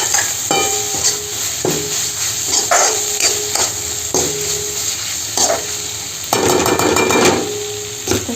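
Ingredients for a Maharashtrian vangyache bharit, onion, garlic and masala, are stirred in a hot pan with loud, repeated spatula scrapes and taps over a continuous frying sizzle, busiest toward the end.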